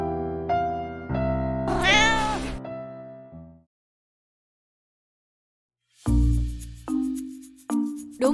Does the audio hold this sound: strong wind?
no